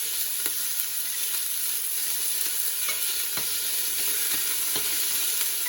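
Chicken tenderloins sizzle steadily in a hot pan, a continuous close hiss broken by occasional soft clicks of stirring, with no voices.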